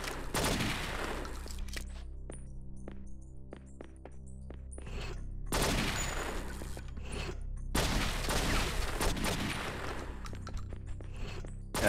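Gunfire rings out in the video game True Crime: New York City. Loud bursts of rapid shots come in clusters, separated by brief quieter stretches with scattered single reports.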